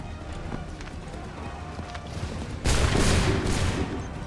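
A musket volley erupts in Assassin's Creed III partway through, a sudden loud burst of broadband gunfire over a busy battlefield of shouting and hoofbeats.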